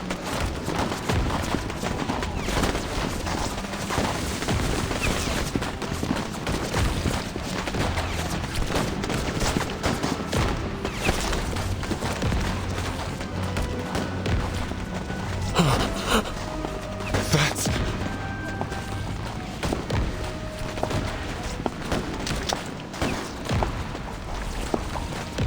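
Soldiers fire guns in the video game Reverse: 1999, a dense, continuous crackle of rapid shots and bursts that runs without pause for the whole stretch.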